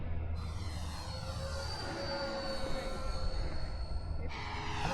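A remote-controlled model airplane flies the landing pattern at a field, its engine a steady moderate whine with slowly shifting pitch as it passes at a middle distance, alone without talk.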